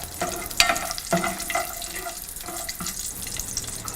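Cashews roast in ghee in a pan, a soft continuous sizzle with a few scattered pops and clinks of stirring, close and quiet, with no talk.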